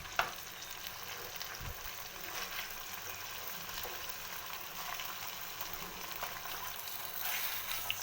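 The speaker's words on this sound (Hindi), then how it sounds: "इसको मैं करूँगी अच्छे से फ्राई" Chicken pieces frying in hot oil for a white chicken karahi, a quiet, steady sizzle with soft crackling pops scattered across the whole stretch, no voices.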